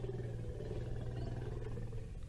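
An elephant herd in the wild at sunset gives off low, rumbling, roar-like calls to one another, steady and moderately distant against outdoor ambience.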